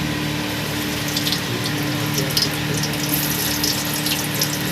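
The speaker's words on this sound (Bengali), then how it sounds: "এবার আমি পটলগুলো ছাড়বো" Pointed gourd (potol) pieces frying in roughly fifty grams of oil, giving a steady, close sizzling hiss with scattered bright crackles throughout and no talking.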